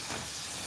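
A pressure cooker whistle releasing steam while dal fry cooks in a home kitchen: a short, continuous, fairly loud hiss with no break.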